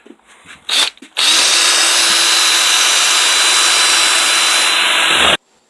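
High-pitched power tool whines continuously while cutting a hole for a sensor wire in a haunted magic mirror build, after two brief starts, loud and close, then stops abruptly.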